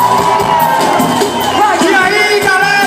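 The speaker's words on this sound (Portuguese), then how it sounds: "uma salva de palmas" A large crowd at a live concert cheers and shouts loudly and without a break, with music still playing underneath.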